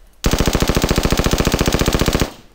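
Designed gunshot effect's body layer, a dense rapid burst of around forty loud, evenly spaced automatic-fire shots over two seconds, close and full-range, cutting off sharply.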